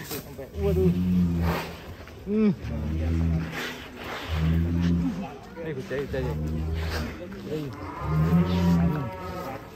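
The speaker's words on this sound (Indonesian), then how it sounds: "Sapi monster sih." Deep, drawn-out moos from a giant cow repeat about every two seconds, loud and close, with people talking in the background.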